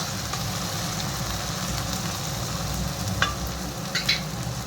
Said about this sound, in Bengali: টমেটোটা দিয়ে দিলাম, দিয়ে এখন একটু আরেকটু ভেজে নিই। টমেটোটা হালকা করে ভেজে নিই।